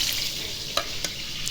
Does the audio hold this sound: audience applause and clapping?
no